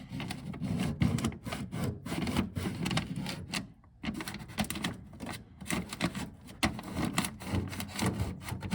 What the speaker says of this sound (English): Just rub your finger around here on the edges.